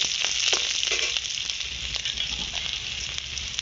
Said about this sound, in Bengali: ডাল ফোড়ন দেওয়ার জন্য কড়াইতে শুকনো লঙ্কা, তেজপাতা, পেঁয়াজ কাটা, গোটা জিরে দিয়ে দিয়েছি।